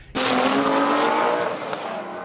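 Race cars, a Ford Mustang and a Nissan GT-R, roar past on a track with a sudden loud onset, sustained engine and tire noise fading gradually over a couple of seconds.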